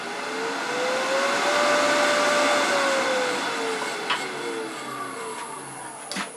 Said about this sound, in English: going to turn the lathe speed up at a high speed.